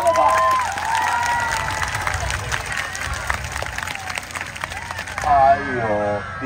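At the Taitung hot air balloon festival, an outdoor crowd applauds and cheers for the ground crew. The clapping is spread and moderately loud, with scattered voices and a brief swell near the end.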